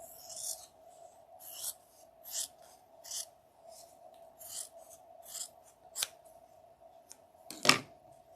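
Scissors cut quilt fabric in half with about a dozen soft, crisp snips at an uneven pace, close but quiet, over a faint steady hum. A sharper click comes near the end.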